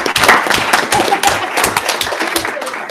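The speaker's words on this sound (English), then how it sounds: "I just really wanted to clap." A small room at a water board meeting breaks into an ovation, with dense, close hand clapping from several people that is steady throughout and loud against a quiet background.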